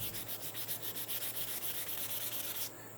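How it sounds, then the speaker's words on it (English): Steady back-and-forth sanding of knife handle scales with 220 grit sandpaper, close and continuous with a regular stroking rhythm, ending in a brief change of tone near the end. "now I'm sanding"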